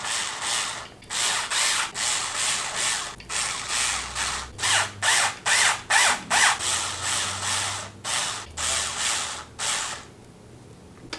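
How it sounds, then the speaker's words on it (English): Power screwdriver driving neck screws into a Charvel Pro Mod San Dimas electric guitar, loud and close, a dozen or more short whirring bursts in quick stop-start rhythm that end in a brief quiet. "We're using the power screwdriver."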